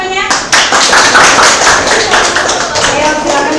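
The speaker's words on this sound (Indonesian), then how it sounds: "Tepuk tangan buat teman-temannya." A class of children claps together in a steady, dense burst of applause that carries on at full volume from start to finish.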